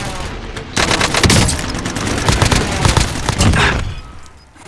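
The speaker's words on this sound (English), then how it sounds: "I'm being shot." Video game gunfire bursts out in rapid, loud volleys of automatic shots, like a machine-gun fusillade, lasting a few seconds before falling away at the end.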